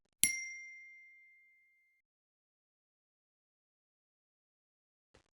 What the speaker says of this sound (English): Before sunrise, the summit bell finally rang above her.